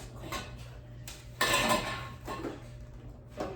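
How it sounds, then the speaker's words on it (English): Ceramic bowls are taken out of a bag near by with light clinks, knocks and rustling in a few separate bursts, one louder clatter in the middle. "And then let's get the bowls."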